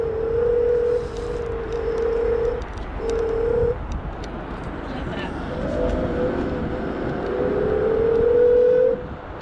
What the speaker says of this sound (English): the sound of the motors are great. They are a little bit loud, but not to the point where it's too loud.